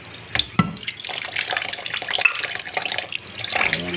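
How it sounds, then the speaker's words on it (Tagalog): Fish rinsed under a running kitchen tap, water splashing steadily into a sink with brief drips and handling noises, close and fairly loud, no talking. "hugasan ko muna ulit ito"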